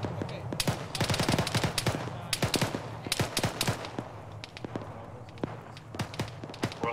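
Rifle fire from soldiers holding a base of fire during a field training exercise: rapid, uneven volleys of sharp cracks, some near and loud, some more distant, continuing throughout.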